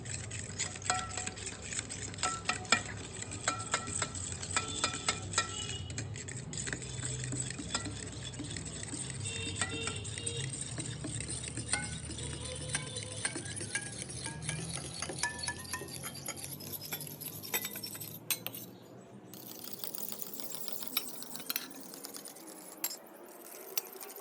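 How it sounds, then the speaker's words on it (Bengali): A fork whisking sour yogurt in a bowl: quiet, rapid, continuous clinking and tapping of metal against the bowl, close up and steady, with no talk. "এখানে খুব সুন্দর করে ফাটিয়ে নিয়েছি টক দইটা"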